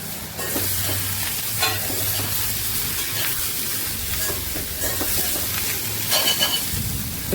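Sliced ivy gourd sizzles loudly and continuously in hot oil as it is stirred in a pan, the dense frying hiss broken now and then by faint scraping from the spoon.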